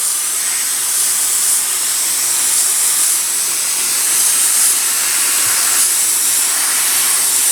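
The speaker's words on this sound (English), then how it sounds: "These are the onions that are being misted" Water mists steadily over flats of onion seedlings, a close, continuous airy hiss with slight swells in strength and no pauses.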